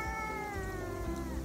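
A cat gives one drawn-out, wavering meow, close and clear, against a low background rumble, with no talking.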